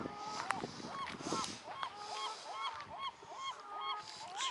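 A young brown goose honks repeatedly at a waterside bird park, a steady string of nasal calls close by over an outdoor background wash, with other birds faintly mixed in.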